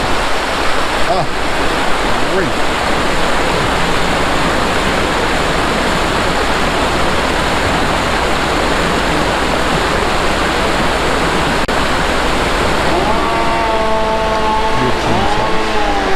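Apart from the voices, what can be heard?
rushing river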